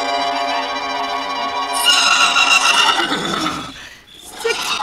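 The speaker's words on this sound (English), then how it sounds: "6 white horses with golden harness and red and blue ribbons in their manes." Several white horses in golden harness, with ribbons in their manes, neigh loudly at close range, a long shrill whinny swelling into overlapping calls, with no talk over them.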